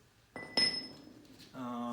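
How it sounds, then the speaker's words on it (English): A hammer drives a bronze drift to tap lug nuts out of a brake rotor on a 1968 Impala, giving two sharp ringing metallic strikes followed by a sustained tonal ring. "I'm gonna take this bronze drift and hammer and just tap the lug nuts right through"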